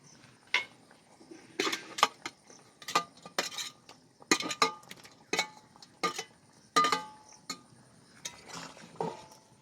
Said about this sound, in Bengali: এবার আমি পনির ভাজাটা দিয়ে দিলাম